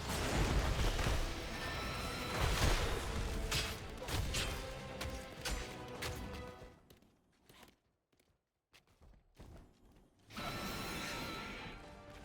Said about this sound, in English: Red team has destroyed the fort